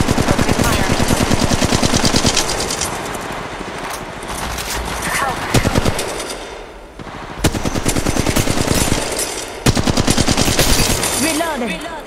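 Rapid automatic gunfire in the game Apex Legends, loud dense bursts that stop briefly and resume in several long volleys, with a voice talking over the shooting.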